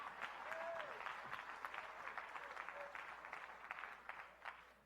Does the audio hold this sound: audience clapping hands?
yes